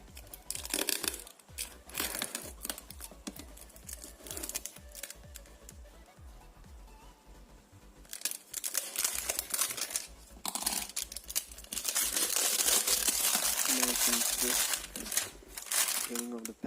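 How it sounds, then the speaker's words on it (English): Crinkly plastic packaging is pulled and torn off a Boult TRU5IVE Pro wireless earphone box, giving close, bursty crackling and rustling that grows denser toward the end, with a voice talking in between. "Getting off the packaging there."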